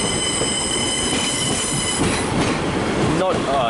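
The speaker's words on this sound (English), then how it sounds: "Got another train departing." Close, loud rumble of a train bound for Buxton pulling out of Manchester Piccadilly station, with high squealing wheel tones ringing over the noise.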